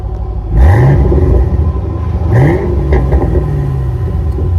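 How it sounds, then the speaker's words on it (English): A 2010 Mustang GT convertible's V8 blips twice from idle, each rev rising quickly and falling back into a loud, deep, gurgling exhaust rumble, close to the tailpipes. "So it does have an aggressive rumble gurgle"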